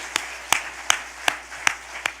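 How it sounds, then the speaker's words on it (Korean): A single person claps slowly in church, six sharp evenly spaced claps, fairly faint over a quiet room. "하나님께 박수 영광"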